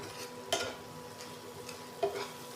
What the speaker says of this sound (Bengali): এবারে ভালো করে কষাবো লো ফ্লেমে।